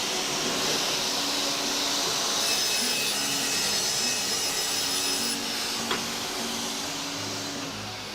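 A panel saw is pushed across a wooden board to trim its top edge, producing a steady whirring motor drone with a faint high-pitched whine during the cut, with no talking.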